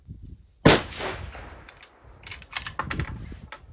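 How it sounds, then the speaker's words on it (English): A single loud 6.5 PRC rifle shot cracks sharply at close range during load testing for Hodgdon powder, then fades into a decaying echo and quiet outdoor rustling. "so I'm gonna shoot this here"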